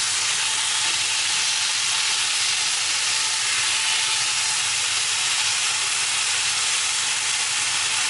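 Food sears in a hot pot with a loud, continuous hiss and sizzle that holds steady throughout, close by and uninterrupted, with no voices.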